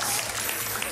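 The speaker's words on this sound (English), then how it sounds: "I assume you're applauding that I'm still standing" A short burst of audience applause at a live video game showcase panel, dense and steady clapping from a crowd, fairly loud and close throughout.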